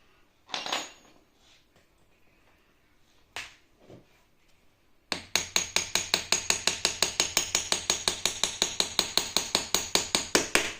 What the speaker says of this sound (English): Don't Hammer it in too hard.